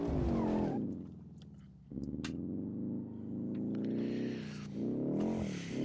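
Hirochi SBR4 Base car in BeamNG.drive spinning and skidding, engine revving loudly with pitch rising and falling as tires squeal and scrub, broken by a sharp knock.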